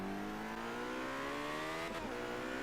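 A McLaren P1 engine held at full throttle in Forza Horizon 3, a steady, rising high-revving whine with climbing harmonics, near and continuous, with a brief burst of noise near the end.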